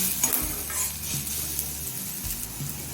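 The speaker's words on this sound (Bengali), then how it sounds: "পেঁয়াজটা মিডিয়াম ফ্লেমে একদম হালকা লাল করে ভেজে নিয়েছি" A medium-sized onion fries in oil over a medium flame, a steady close sizzle with occasional stirring scrapes and clinks and no talk.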